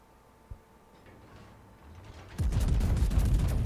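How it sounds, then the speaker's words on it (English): A warship in World of Warships fires a salvo of eight high-explosive shells, a sudden loud booming blast that follows a quieter lead-in and then holds as dense rumbling gunfire. "So, 8 high explosive shells out towards him."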